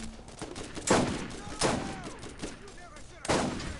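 Sniper rifle fire in Borderlands 1, three sharp loud shots spaced roughly a second apart, with game sounds and faint chatter in between.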